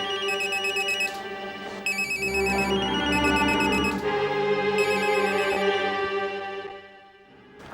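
A telephone rings in repeated bursts of electronic trills, loud and close, with a low background hum and no talk over it.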